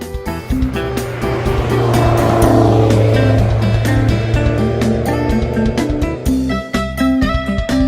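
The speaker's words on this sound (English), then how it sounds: "Race car." A race car engine roars loud and close throughout with a steady high-revving whine, over what sounds like backing music in a children's toy vehicle sequence.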